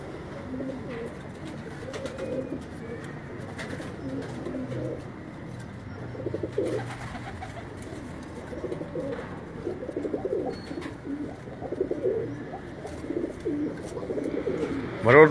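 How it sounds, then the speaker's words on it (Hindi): Soft, repeated cooing of Rampuri pigeons in low murmuring bursts, with a steady background hum and some faint voices mixed in. "ये जो मादा है मरवत भाई के हाथ में है, और ये रामपुरी कबूतर जो वो दिखा रहे थे"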